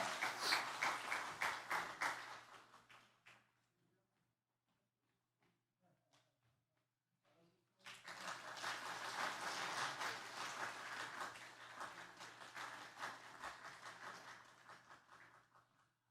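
A church congregation claps during a Sunday worship service, a burst of applause that stops, then a near-silent pause before a second, longer round of clapping swells and slowly tapers off.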